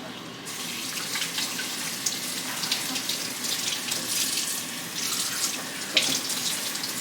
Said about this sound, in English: Going to fill it with water to be a couple inches higher than the green beans